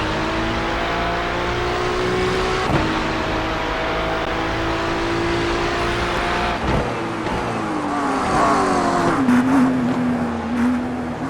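Race cars in a racing video game replay, with a steady engine drone that holds and then shifts pitch as the cars accelerate and lift off, alongside faint tire noise.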